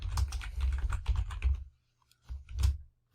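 Computer keyboard typing in a quiet room, quick clustered keystrokes in two short bursts separated by a brief pause, close and fairly soft, with no voices.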